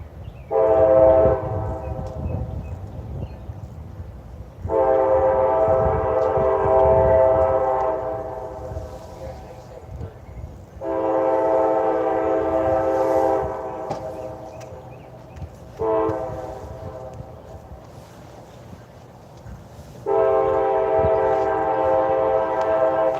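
A train passes the Cordele train platform in Georgia with a long rumble and sounds its horn in repeated long blasts, four or five loud sustained honks with gaps between, close by.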